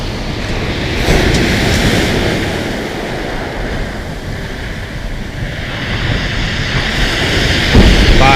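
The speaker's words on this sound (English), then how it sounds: "the waves are a bit rough." Rough sea waves roll in at Sandgate Beach during Storm Arwen, a loud continuous wash and roar of surf buffeted by heavy wind noise, with swells building and crashing without speech.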